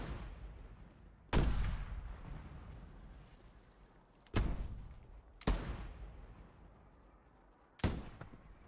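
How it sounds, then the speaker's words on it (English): Cannon fire booms in a large-scale multiplayer battle game, four heavy blasts spaced irregularly, each a sharp deep thud trailing off into a rumbling decay. "We got the cannon suppressing on them."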